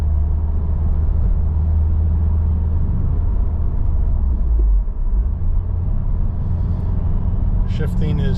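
A 2022 Subaru WRX with a 6-speed manual driving on the road: a steady low engine rumble with road noise heard from inside the cabin, the engine note dipping briefly as if during a gear change.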